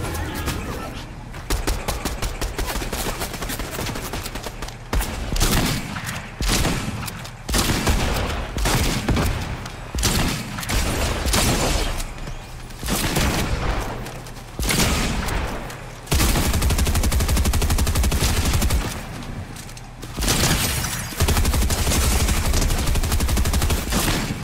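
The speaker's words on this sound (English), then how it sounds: "Oh, someone's shooting." Sustained video-game gunfire in Tales From The Loop, dense bursts and volleys of shots, some near and loud, with brief pauses between, continuing throughout with occasional talk over it.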